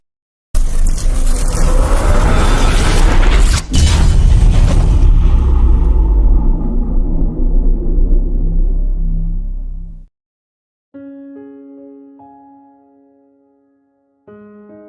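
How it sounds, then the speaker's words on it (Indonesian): A sudden roaring blast fills the air, sustained and heavy with deep rumble, then fades out before a short electronic tone sequence follows. "Wush, buom, terjadi ledakan keras"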